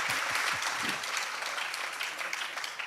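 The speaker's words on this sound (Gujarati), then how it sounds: "તો તાળી વગાડો જોરથી" An audience at a spiritual gathering bursts into loud, sustained clapping, a dense wash of many hands that holds steady for a few seconds.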